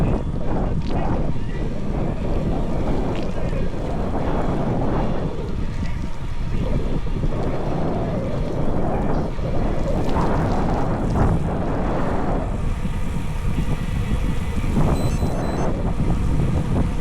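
Strong wind while cycling in rainy northern England, a loud, constant blustering roar buffeting the microphone, with surging gusts throughout.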